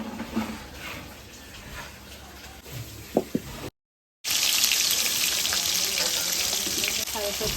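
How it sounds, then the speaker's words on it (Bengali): Paneer frying in hot oil in a home kitchen while a vegetarian dish is cooked, a steady loud sizzle filling the second half after a brief gap, with quieter clatter and a few short clicks before it. "পনিরটা ভেজে নেব"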